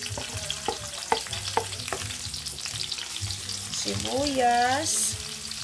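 Garlic, onion and tomatoes sauté in a pan with a soft sizzle and repeated utensil scrapes and taps, building to a brief louder burst of frying near the end.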